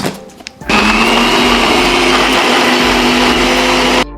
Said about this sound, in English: we are going to give it a quick blend